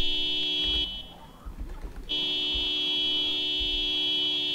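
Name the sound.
car horn honking to move crowd away from firefighters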